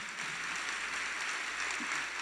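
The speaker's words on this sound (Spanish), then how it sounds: "Yo quiero que les demos un fuerte aplauso" A steady wash of applause from a church congregation, even and continuous throughout, heard at a moderate distance.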